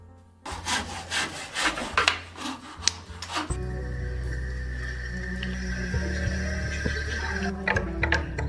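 Excess timber being cut on the roof structure of a timber-framed mountain house: rapid rasping strokes at first, then a steady loud powered whine that continues to the end.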